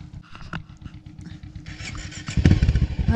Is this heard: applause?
no